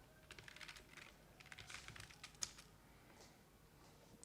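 Light, steady typing on a computer keyboard, a quick run of soft key clicks with brief pauses and one sharper keystroke, recorded close but quietly.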